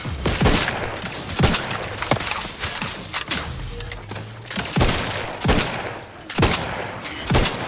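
Enemy gunfire in The Outer Worlds 2 crackles in repeated sharp bursts, loud and fairly close, spaced irregularly over a steady noisy battlefield background.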